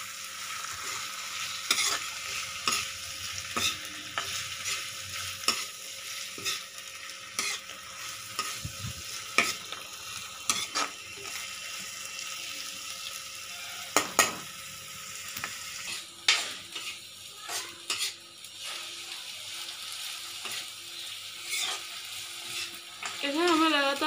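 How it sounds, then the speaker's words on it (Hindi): Chilies and tomatoes sautéed in a pan for gobi sabzi: a continuous sizzle with irregular spatula scrapes and taps against the pan, close and steady throughout with no voices. "मिर्ची, टमाटर, इन सभी चीज़ों को भून लेंगे।"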